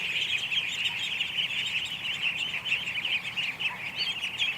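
A flock of ducks in a yard fills the air with a continuous chorus of high peeping and chattering calls, moderately near and fairly quiet, with no talking.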